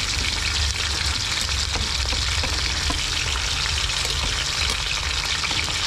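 Chicken pieces sizzle steadily in hot cooking oil in a pan for barbecue, a dense, loud, continuous crackle with no talking.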